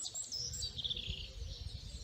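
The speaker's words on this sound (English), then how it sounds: "Listen to that bird song." Birds sing outdoors at a quiet spot in early spring, with high chirping phrases carrying over a steady low rumble of wind and background noise for the whole stretch.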